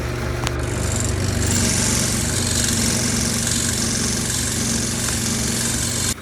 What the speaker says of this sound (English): Still using the skew chisel for this.